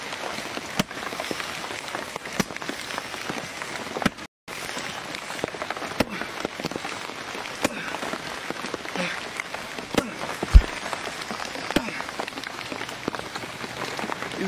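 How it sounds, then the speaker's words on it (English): Rain falls outside as a steady, soft patter of drops on surfaces, with scattered sharper ticks and a brief dropout near the middle, quiet and continuous throughout. "it's raining outside."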